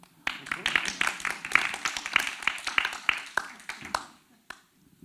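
Applause from a public arts-and-sciences gathering: a short round of distinct, fairly close handclaps. It builds quickly, holds for about three seconds, then thins out to a few last claps.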